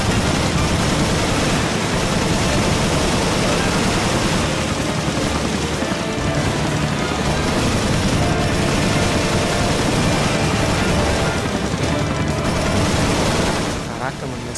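Gunfire in the survival-horror game Resident Evil Revelations, a dense, continuous burst of loud shots and booms running the whole stretch under a player's excited talk.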